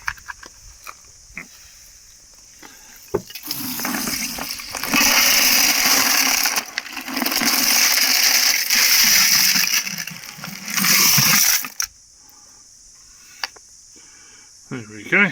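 Tumbled Aroha stones being washed in water with dishwashing liquid, a loud sloshing, rattling churn in bursts of several seconds between quieter pauses.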